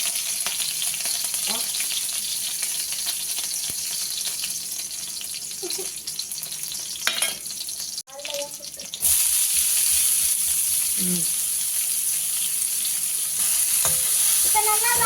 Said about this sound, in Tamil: கடுகு நல்லா பொரியும் போது வெங்காயம், பச்சை மிளகாய் போட்டுக்கலாம்